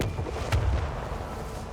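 A starship's dorsal gun firing in the game Rogue Trader, with a short booming report that rumbles low, like distant artillery.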